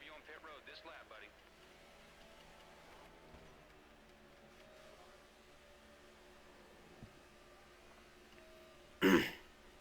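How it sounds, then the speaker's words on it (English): Near the end, one short, loud throat clearing bursts out after a quiet stretch that opens with faint murmured talk, during play of the game NASCAR '15. "sorry I'm clearing my throat so much"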